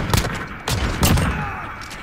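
Gunfire in the video game Call of Duty Modern Warfare comes as three sharp, close shots spaced unevenly over two seconds, each with a short ringing tail.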